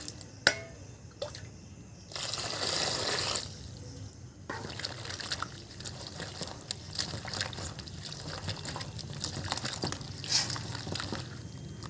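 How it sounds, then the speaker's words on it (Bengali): Taro flowers are washed by hand in water, with continuous splashing, trickling and sloshing that swells in louder bursts, close and moderately loud, no talking. "এবার আমি ভালো করে কিন্তু ধুয়ে নেব।"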